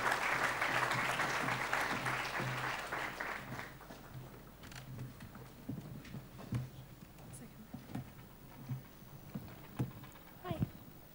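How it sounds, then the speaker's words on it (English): Dense audience applause at a launch event for a policing board review fills the room for a few seconds, then thins to scattered claps and small room noises. "Round of applause for Liz, please."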